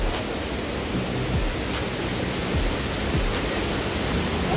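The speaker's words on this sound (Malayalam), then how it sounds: "വെള്ളച്ചാട്ടം എത്തിയിരിക്കുന്നു" A waterfall pours with a dense, steady roar that fills the whole scene, loud and close with no break, and no voices are heard over it.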